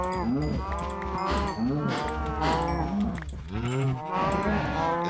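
Cattle in a survival crafting video game moo repeatedly in loud, overlapping calls, several drawn-out lowing notes in a row with farm-animal ambience throughout.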